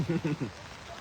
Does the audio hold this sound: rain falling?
yes